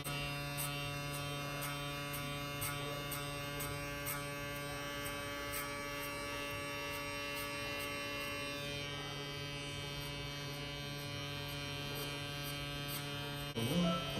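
An electric hair clipper runs during a fade haircut, a steady buzzing hum that holds evenly throughout at low level, with a brief clunk near the end.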